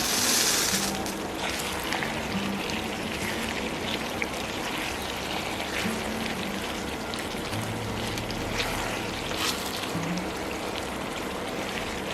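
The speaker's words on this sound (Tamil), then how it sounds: "டென் மினிட்ஸ்கிட்ட மிதமான தீயில் வந்துட்டு நம்ம அதை குக் பண்ணி எடுக்கணும்" A potato, egg and onion mixture cooks in a pan over a medium flame, giving off a steady, dense sizzle and crackle that holds evenly throughout.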